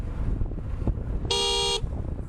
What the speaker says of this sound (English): I'm not sure where the beep actually came from